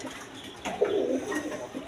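A pair of Indian Kaldom pigeons give a short, close, low cooing phrase against quiet background hum.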